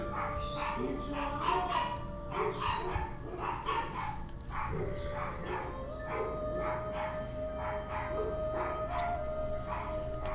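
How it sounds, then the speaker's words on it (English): Several dogs bark at someone at the door during a game of Assassin's Creed Origins, with repeated barks and yips mixed with steady in-game sound and a little voice. "And that's what they're barking at."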